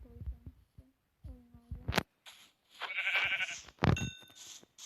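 Sheep bleat a few times in Minecraft, short wavering calls spread across the clip with bits of chatter between them.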